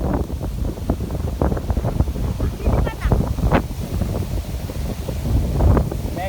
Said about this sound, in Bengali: কি বাতাস, আল্লাহ।